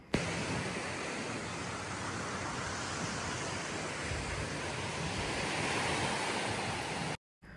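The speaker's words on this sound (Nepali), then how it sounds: "अहिले चाहिँ हामी आएको छौँ जोमटेन बिच" Waves on Jomtien beach near Pattaya, Thailand, make a steady, loud broadband rush of surf with wind, continuing unbroken for several seconds before stopping abruptly at the end.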